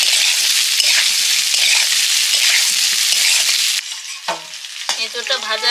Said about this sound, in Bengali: এঁচোড়টা ভাজা হয়ে গেছে